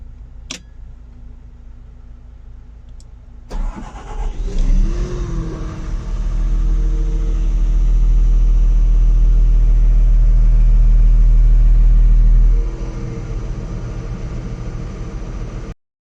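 A car engine starts with a sharp crank, then revs up to a loud, sustained roar that holds steady for several seconds before dropping back to a lower idle, close by with no talk.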